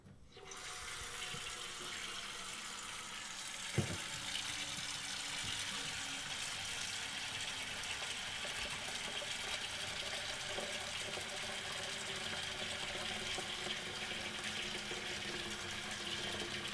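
Tap water runs steadily into a pot to boil for cooking pretzel dogs, a continuous hissing splash close by, with a brief clunk early on and no talk.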